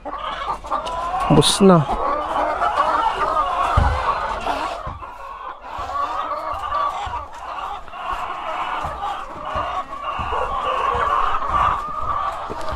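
Many chickens cluck and murmur together in a busy, continuous chorus, with a brief human voice and some handling noises near the start.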